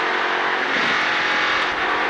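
Race car at Charlotte Motor Speedway roaring under throttle, a loud, steady high-pitched engine drone for about two seconds, smooth and sustained with no voices over it.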